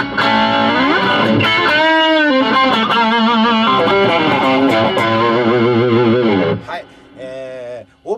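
A distorted electric guitar on its rear JB pickup, played as sustained ringing chords and riffs that fill the clip at steady loudness, then thin out into a few sparser notes near the end.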